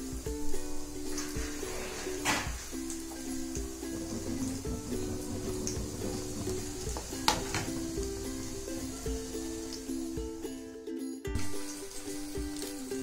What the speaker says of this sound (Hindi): इसको एक एक कर फ्राई कर लेंगे डाल के